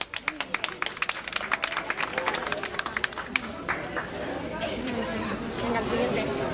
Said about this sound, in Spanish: Vamos a darle un fuerte aplauso a Jenny.